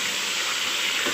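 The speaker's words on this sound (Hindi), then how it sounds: "अब इसको हम अच्छे से फ्राई करेंगे इस ऑयल में।" Chicken pieces frying in hot oil for chicken nihari: a loud, close, even sizzle and hiss that holds steady throughout, with no talk.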